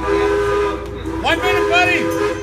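At a train station, a whistle sounds in a couple of bending, wavering blasts over a steady low hum, fairly loud and close, with no one talking over it.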